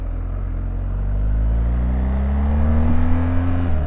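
A BMW R 1250 GS motorcycle accelerating hard from a standstill, its engine note climbing steadily in pitch and loudness over a few seconds, with a deep rumble underneath and nobody speaking.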